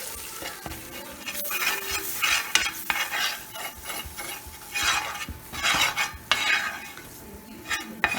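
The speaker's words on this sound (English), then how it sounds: "And just give it a little stir in there." A spoon scrapes and clinks through a pan as flour is stirred into a thickening sauce, with steady rhythmic stirring over a soft sizzle and no talking.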